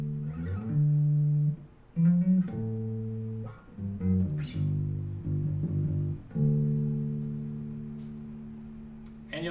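Bass guitar line from a song, played alone as a tutorial demonstration, with sustained low notes shifting through several pitch changes and short gaps between phrases.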